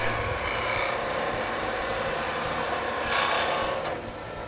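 A Shopsmith lathe spins a wood blank while a wide bead is turned, giving a continuous close whir and faint scraping over the motor hum, steady throughout with no speech.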